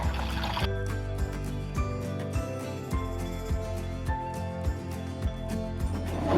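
Water is poured into a pot holding beef, ginger, salt, halved tomatoes and whole spices, giving a soft continuous trickle and splash, with light rhythmic tapping behind it.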